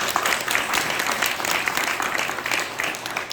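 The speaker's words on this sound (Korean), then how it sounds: "박수로 좀 환영해 주십니다." Applause welcoming a speaker at a Korean church prayer meeting, a loud, close, continuous burst of many hands clapping together.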